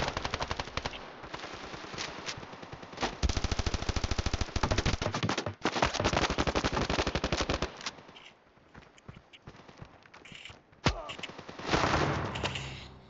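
Rapid automatic gunfire from the Standoff shooting game rattles in long, loud, dense bursts, pauses briefly, then resumes in shorter volleys, with no talking.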